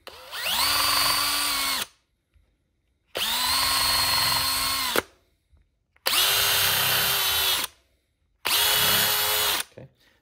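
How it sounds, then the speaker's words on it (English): A power drill bores a pilot hole straight down into wood in four separate runs of about two to three seconds each. The motor whines loud and close, with short silences between runs. "we're going to drill a pilot hole straight down"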